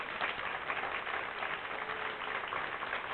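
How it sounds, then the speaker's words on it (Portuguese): Studio audience applause on a television veterinary segment, a steady, even wash of clapping at moderate level lasting a few seconds with no talk over it. "Vamos aplaudir a Miti"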